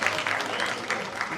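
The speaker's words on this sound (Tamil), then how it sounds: "மிகப்பெரிய கரகோஷம் கொடுத்துடலாம் இப்படி ஒரு எனர்ஜெட்டிக்கான ஸ்பீச்சுக்கு" A crowd claps in a brief, dense burst of applause after an energetic speech, the clapping steady and moderately loud, with some voices underneath.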